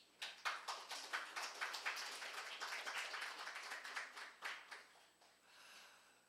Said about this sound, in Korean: 제 손님이 하나 오셨는데 박수 한번 주세요.